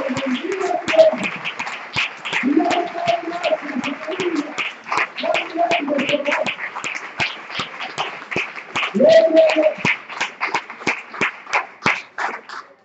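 A congregation claps along in a church service, with rapid, uneven hand claps continuing steadily over and between a preacher's voice and scattered shouts.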